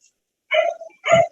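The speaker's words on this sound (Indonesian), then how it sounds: "nah ini anjing sudah menggonggong" A dog barks twice in short, fairly loud bursts about half a second apart, heard alone during a church catechesis talk.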